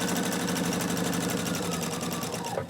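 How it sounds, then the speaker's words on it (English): A domestic sewing machine stitches cloth napkins with double needles, running as a steady, fast, even mechanical whir that holds close and loud throughout with a slight slowdown at the end. "Pivot and turn, and we're going to sew right up"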